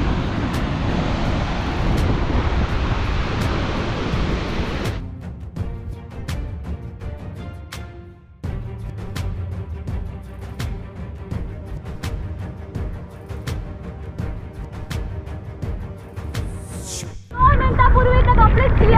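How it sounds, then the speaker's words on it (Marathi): Heavy monsoon rain at the Nanemachi waterfall viewpoint, a loud steady roaring wash that breaks off into quieter patter with faint ticking drops, then returns strongly at the end. "आता जोरात पाऊस चालू झालेला आहे. एवढा जोरात पाऊस आहे."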